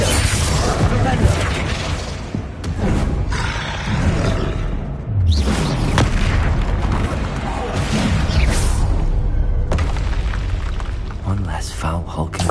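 Spell blasts and explosions in the Hogwarts Legacy video game burst in dense, loud succession, with booms and whooshes overlapping under continuous shouted spell incantations.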